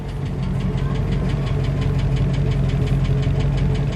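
A 1956 Dodge Custom Royal Lancer engine idles steadily with a loud, lumpy low rumble and a rhythmic knocking pulse, continuous throughout with no talking.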